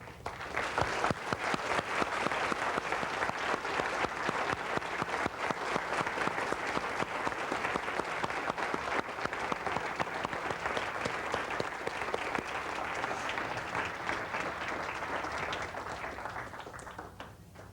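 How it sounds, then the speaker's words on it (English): A large audience gives sustained applause after an Abraham Lincoln portrayal. Dense, loud clapping from many hands runs steadily for well over fifteen seconds before tapering slightly near the end. "Would you join me in applauding them?"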